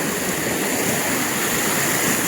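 Loud, continuous rushing water from a forest stream at night roars steadily, like a fast stream or small waterfall close by, with no other sounds.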